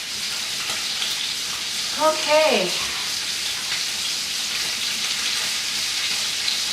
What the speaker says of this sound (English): I'm gonna let that sizzle for a little bit longer